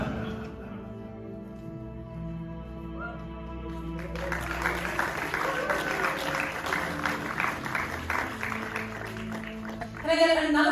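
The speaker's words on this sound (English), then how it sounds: "Can I get another round of applause for one of the most majestic guests ever made?" Panel audience begins clapping partway through, a moderate burst of applause rising over a sustained musical drone, then a louder sound at the end.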